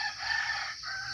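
A wild junglefowl rooster, a labuyo, crows in one steady, drawn-out call that fills the whole moment, clear and fairly close, with no voices around it.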